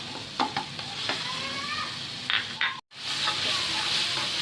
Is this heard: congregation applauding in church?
no